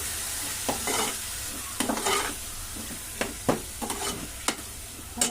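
Masala and yogurt stirred in a frying pan, a low sizzle running underneath while a spoon scrapes and taps the pan in irregular strokes, close by, with no voices.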